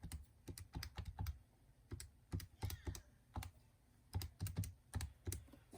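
Calculator keys are pressed one after another to enter the left side of an inequality, making quick clusters of soft clicks with short pauses, close and fairly quiet, with no talk.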